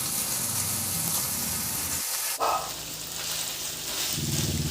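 Ground pork with soy sauce, oyster sauce and tomato paste sautés for menudillo, giving a loud, steady sizzle close by that briefly drops out midway before resuming.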